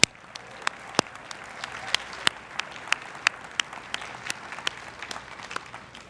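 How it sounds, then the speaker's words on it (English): Harvard's graduating class of 2024 applauding themselves at Class Day, a broad wash of crowd clapping with distinct sharp nearby claps popping out at a steady pace, moderately quiet and continuous. "Please give yourselves a round of applause."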